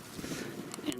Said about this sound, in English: Insanely windy again